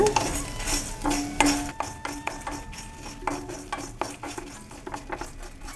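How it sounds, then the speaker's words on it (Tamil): Dried red chillies and salt dry-roasting in a pan while a spoon stirs and scrapes, giving close, irregular metallic clinks and scrapes over a faint background. "இப்போ உப்பு இது கூடவே வரமிளகாவும் போட்டு வறுத்துடலாம்"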